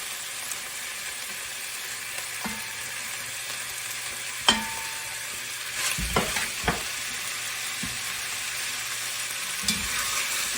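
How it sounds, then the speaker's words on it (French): Onions tipped into a hot pan with beef sizzle faintly and steadily, with a few sharp clinks and scrapes of utensils against the pan; no one speaks. "nous allons maintenant rajouter les oignons"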